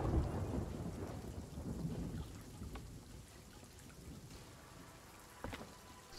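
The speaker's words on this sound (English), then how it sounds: "Dude, they just got hit by lightning." A storm in a pirate ship video game gives a loud rumble of thunder that slowly fades into steady rain, followed by a brief sharp crack near the end, with no talking.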